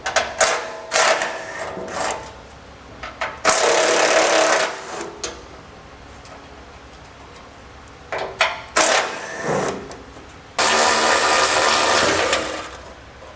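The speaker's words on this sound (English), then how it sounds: "We're going to remove all of these with a 10mm socket." A power tool driving a 10mm socket spins off heat shield fasteners under a 2017 Ram 2500, whirring in several short bursts and a few longer sustained runs, close, with clicks and handling noises between them.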